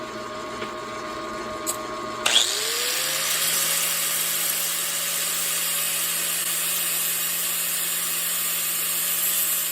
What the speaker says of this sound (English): I'm just gonna hit it with the grinder.